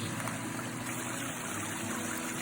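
Steady rushing and trickling of a mountain stream on the Appalachian Trail in Georgia, constant and fairly close, with no voices over the continuous flow.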